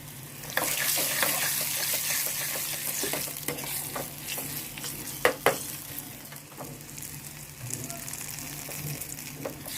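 Dried red chillies and asafoetida tempering in hot oil for a moong dal and tomato curry, giving a steady close crackle and sizzle with sharp pops scattered throughout.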